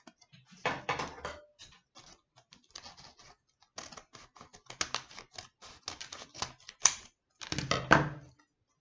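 Scissors snip magazine paper while trimming it for a craft berry basket: a run of short, dry, close cutting bursts in uneven clusters, louder toward the end, with no talking.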